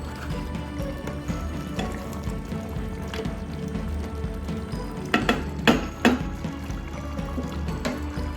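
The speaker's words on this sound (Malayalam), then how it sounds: "നമുക്ക് നല്ലോണം ഇളക്കി നമുക്ക് ഗ്രേവി ഒന്ന് കുറച്ച് വറ്റിച്ചെടുക്കാം" Mutton curry gravy simmers and reduces in a pot under a low bubbling hiss, while a spoon scrapes and knocks against the metal in a few sharp, clustered strikes near the end.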